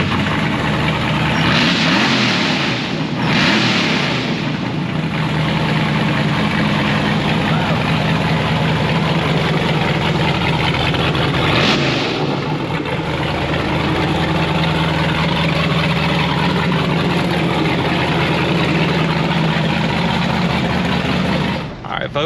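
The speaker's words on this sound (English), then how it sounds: "850 horsepower straight pipe is nasty." A supercharged 850-horsepower rock bouncer buggy with straight-piped exhaust idles loudly and roughly, a dense continuous rumble with a couple of brief revs early on and another near the middle.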